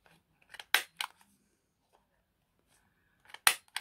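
Paper trimmed by hand with scissors for a junk journal pocket: a few crisp, close snips in short bursts, with near silence between them.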